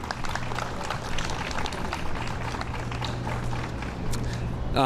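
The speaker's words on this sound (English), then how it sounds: "So a round of applause for Carnitas Urapan" Audience applause at a neighborhood grant finalists event honouring a local restaurant, steady clapping across the whole stretch with a low hum underneath and some voices mixed in.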